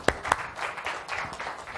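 An audience bursts into applause, opening with two sharp, close claps before many hands join in a steady, moderately loud round of clapping.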